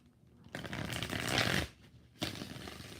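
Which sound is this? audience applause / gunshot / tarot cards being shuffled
tarot cards being shuffled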